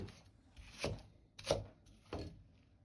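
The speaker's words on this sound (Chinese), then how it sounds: "把白菜幫拍破後，再斜刀片成薄片" A knife slices through thick napa cabbage stems on a cutting board with three distinct, evenly spaced crunchy cuts, close and fairly quiet.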